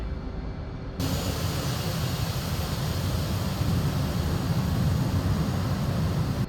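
Jet engine roar in the DCS flight simulator, a steady loud broadband rumble that kicks in abruptly after a near-silent first second and holds constant to the end, with no talk.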